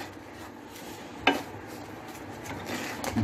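Pappadam being stirred in a dry pan without oil, with chickpeas: a faint, close scraping and light crackle, with one sharp knock partway through.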